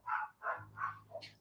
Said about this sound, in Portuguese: Tem um monte de cachorro latindo.